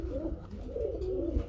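A pair of red Lakha pigeons coo with soft, rolling, throaty calls, two or three cooing phrases in quick succession, close and fairly quiet against a low background hum.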